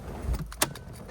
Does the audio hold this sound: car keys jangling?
yes